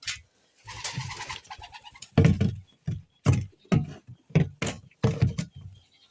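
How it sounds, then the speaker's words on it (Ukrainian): Pigeons coo and flutter nearby as they are released and fly off, with bursts of wingbeats and scattered calls over a few seconds, no talking. "О, голуби вже вилетіли."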